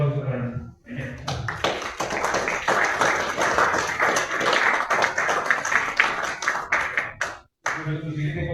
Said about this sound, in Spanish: Fuerte aplauso para nosotros.